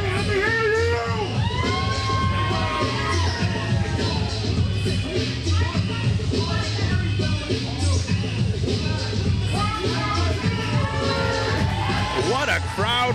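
A packed wrestling arena roars with dense, continuous crowd cheering and yelling, with a commentator talking over it throughout.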